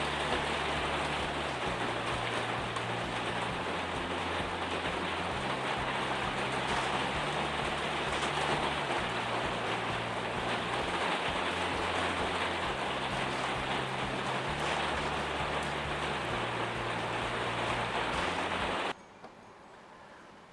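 Steady heavy rain hisses down over a garden in a dense, continuous wash for nearly twenty seconds, then cuts off abruptly.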